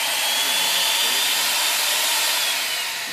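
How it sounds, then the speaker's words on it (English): A power tool plugged into the power port of a VIA Motors VTRUX extended-range electric pickup truck runs steadily, giving a close, continuous whirring hiss that holds constant throughout with no breaks. "we'll plug in either a 110 or 220 power tool into what we call the power port"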